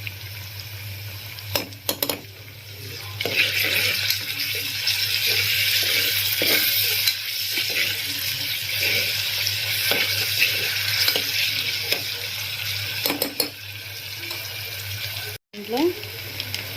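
Tomato rice sizzles and fries in a pan while it is stirred steadily, giving a continuous close hiss with scraping and clinking from the spoon. A voice talks over it now and then.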